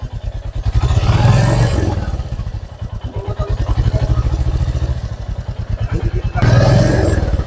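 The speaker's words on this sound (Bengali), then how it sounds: "এটা ইঞ্জিনের ট্যাপের থেকে একটা সাউন্ড আসে।" A Royal Enfield Classic 350 idles up close with a fast, even mechanical ticking from the engine tappets. Its loud low rumble swells and eases a few times and runs steadily with no pauses.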